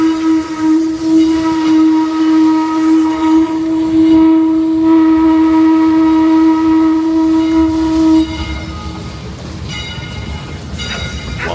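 A steam locomotive's whistle on the Redwood Forest steam train in Santa Cruz, California, blows one loud, long steady chime for about eight seconds, then cuts to hissing steam and rail noise.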